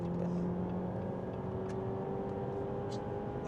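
An imported US car engine is held at high revs around four thousand RPM, producing a steady, moderately faint whirring drone with no clear rise or fall.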